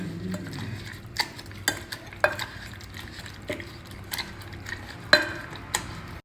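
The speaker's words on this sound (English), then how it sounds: "Now we will add some salt to this and mash it well with a masher like this." Ripe red tomatoes being mashed with salt using a masher, heard as a series of sharp, close knocks and squelchy presses at an irregular rhythm, with no talking.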